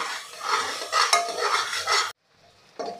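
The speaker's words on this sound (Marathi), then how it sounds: "सतत हलवत आपल्याला हे परतून घ्यायचं आहे" Grated ginger is stirred and sautéed in a pan for a chicken curry. A spatula scrapes busily against the metal over a light sizzle, then pauses briefly before one more scrape.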